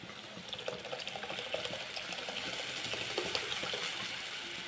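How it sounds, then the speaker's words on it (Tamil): Water runs and splashes steadily into a cooking pot for mutton kola urundai kuzhambu, a continuous close trickle that grows slightly fuller, with no voices. "இப்போ தேவையான அளவு தண்ணி ஊற்ற போகிறோம்."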